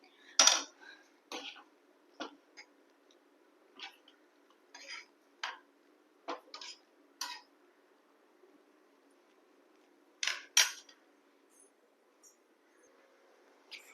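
Scattered metallic clinks and scrapes of a utensil against a pan as curry is transferred into it, irregular and close, with quiet gaps between.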